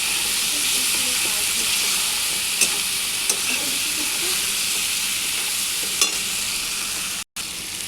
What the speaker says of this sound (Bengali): এখন এটাকে ভালো করে কষিয়ে নিই।